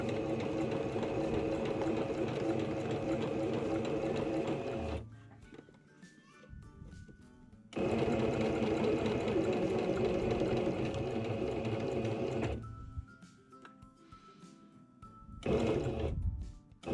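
A sewing machine stitching a washable fabric mask runs in two long, steady buzzing passes with quiet pauses between, then a short final burst, close up.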